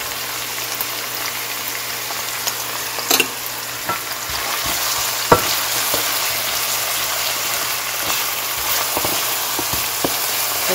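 Chopped scallions hit a hot frying pan for Rasta Pasta, giving a steady loud sizzle with scattered crackles and pops and a few stirring clicks, heard close up without talk.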